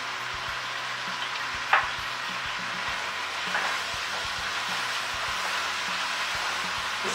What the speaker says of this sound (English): This is going to cook down till the onions are really nice and soft and start to caramelize.